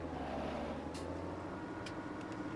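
A tractor engine in Farming Simulator 17 holds a steady, high-revving drone with strong low harmonics, running continuously and fairly loud, with a few faint clicks on top.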